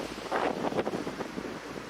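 Gusts of wind buffet the microphone beside a waterfall, a loud, steady rumbling roar with uneven surges throughout, and no talking.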